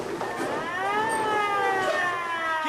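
An ambulance siren wails with rising and falling pitch sweeps, fairly close and steady, with some faint voices underneath.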